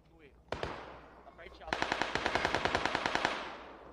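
A single gunshot rings out in a video game, then a rapid burst of automatic fire, many evenly spaced shots in quick succession, loud and fairly close.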